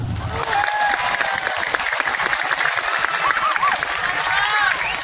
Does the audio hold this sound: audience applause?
yes